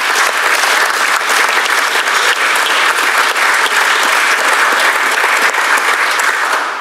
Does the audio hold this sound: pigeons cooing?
no